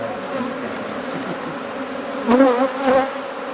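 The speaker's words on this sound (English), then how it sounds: "So can you sense that the bees are getting a little impatient with us?" Honeybees swarm and buzz around an opened hive being split during a beekeeping class, a dense close drone with a few louder passes near the microphone.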